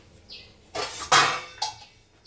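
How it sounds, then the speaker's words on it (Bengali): A metal lid is set onto a cooking pot on a gas stove: a faint clink, then a few sharp metallic clatters and rattles as it settles, close by and otherwise quiet. "এই আমি ঢাকা দিয়ে দিলাম"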